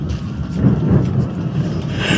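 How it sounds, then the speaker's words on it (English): A thunderstorm at sea in Assassin's Creed III gives a steady low roar of rain and rumbling thunder, loud and continuous with no voices. "You wish us to sail into the storm."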